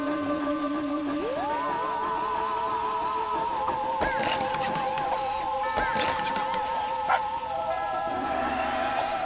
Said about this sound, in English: Look how loyal his dog is.